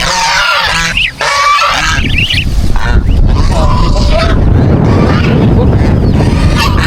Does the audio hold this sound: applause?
no